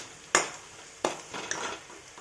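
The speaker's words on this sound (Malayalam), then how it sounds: "അത് നന്നായിട്ട് ഇളക്കുക." Chili powder and turmeric are stirred into hot oil: three sharp spoon scrapes and knocks against the pan come in sequence over a quiet sizzle, with no talk.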